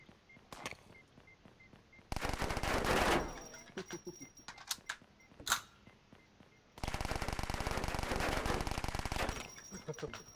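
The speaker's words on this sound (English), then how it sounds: "The SMG produces a lot of" Rapid bursts of submachine gun fire in a video game, two long sustained volleys of dense, loud rattling shots separated by scattered single shots and footsteps.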